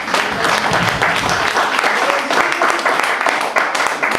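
A church congregation applauds in a loud, sustained wash of clapping that holds steady for several seconds, with voices mixed in.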